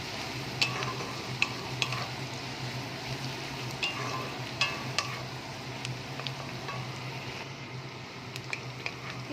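Onions frying in oil with cardamom and bay leaf make a soft, steady sizzle over a low hum, with occasional light ticks and taps of a spoon against the pan; no one speaks.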